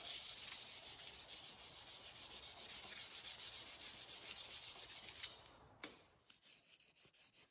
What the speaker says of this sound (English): Now I'm just hand sanding the handle from 320 grit all the way to 2000 grit